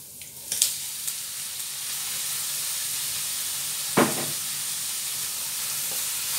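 Marinated chicken with fish sauce and soy sauce frying in a pan for adobo, a soft continuous sizzle with a few brief clatters near the start and one sharp hiss midway.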